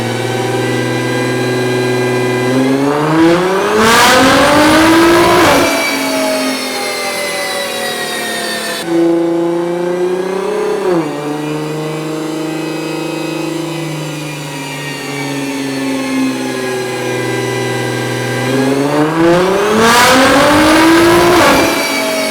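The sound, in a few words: supercar engine revving on a dyno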